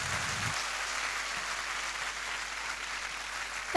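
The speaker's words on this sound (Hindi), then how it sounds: "सबसे जोरदार तालियां।" Audience applause at a network marketing event, a steady wash of clapping at moderate distance lasting a few seconds, with no voices over it.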